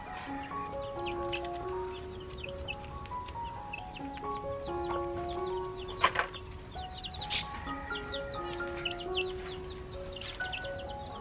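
Young chicks cheeping and softly clucking as they peck at black soldier fly larvae on a home farm, a continuous scatter of thin, high calls with occasional sharp pecks, fairly quiet and close.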